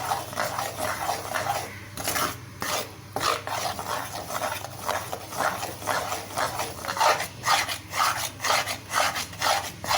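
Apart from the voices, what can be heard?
continuously stirring Mysore pak mixture in a pan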